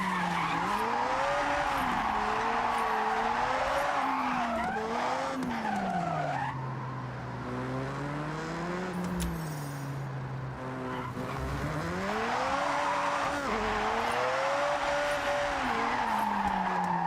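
A car skids and spins out in the racing game Forza Horizon 6, with long, loud, wavering tire squeals rising and falling over a steady engine roar for the whole stretch, briefly easing in the middle before screeching again.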